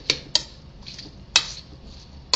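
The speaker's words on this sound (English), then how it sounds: "So let's kind of mix this all together." Chopped vegetables including cactus, onion and bell pepper are stirred in a bowl for Mexican pancakes, with four sharp spoon clinks against the bowl spaced irregularly over soft scraping.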